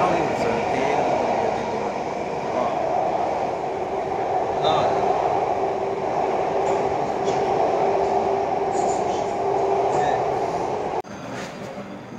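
Delhi Metro train running on the line, a steady loud rumble and rolling hum with faint squeals and rattles throughout, a brief drop near the end as the sound shifts.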